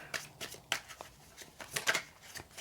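Tarot cards are shuffled close up on a table in a series of quick, crisp riffling bursts separated by short pauses.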